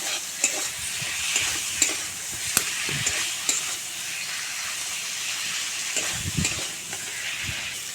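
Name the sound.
pointed gourd (potol) stir-fried with spices in a pan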